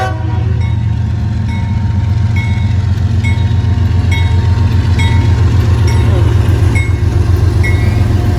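A railroad boxcar on a freight train rolls steadily past nearby, with a loud continuous rumble, faint rhythmic wheel clicks and squeals on an industrial spur.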